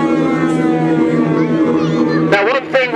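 A loud civil defense air raid siren wails steadily at an air raid reenactment at Rufford Abbey, its pitch wavering, with a crowd murmuring faintly beneath it.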